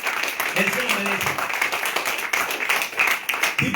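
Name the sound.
congregation applauding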